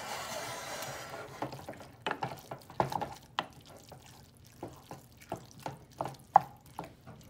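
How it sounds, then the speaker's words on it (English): Meat and red sauce being stirred together for American goulash, giving soft wet squelches and scraping taps in an irregular rhythm, close up and fairly quiet with no talking. "we're going to mix it all together with the meat"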